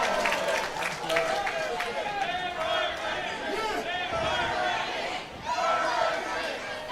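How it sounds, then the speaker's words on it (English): A wrestling crowd in an arena chants Burger King in a loud, rhythmic, massed roar that holds steady, then dips briefly and swells back. "This crowd chanting Burger King."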